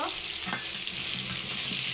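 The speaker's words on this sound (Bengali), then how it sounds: "এখন আমি ভেজে নিব" Pointed gourd (potol) sizzling in a wok with salt and turmeric, a dense continuous frying hiss with stirring scrapes, close and fairly quiet over two seconds.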